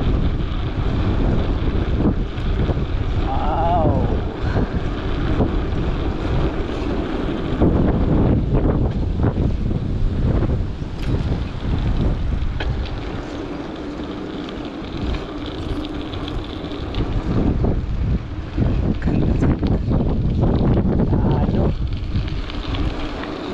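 Wind gusting across open grassland on a New Zealand dairy farm near the Clutha Gold Trail, a steady broadband rush with buffeting on the microphone that swells and eases throughout, no voices.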